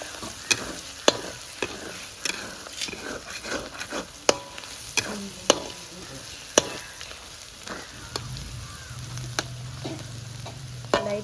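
Egg kothu mixture frying in a pan, with a constant sizzle punctuated by sharp, regular clicks and scrapes of a utensil stirring it, close and fairly loud.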